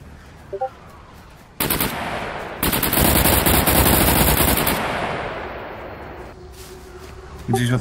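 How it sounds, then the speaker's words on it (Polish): Heavy automatic gunfire rattles in the survival game SCUM: a short burst, then a long sustained stream of rapid shots that gradually fades, with another burst starting at the end. "Gdzieś od prawej strzały"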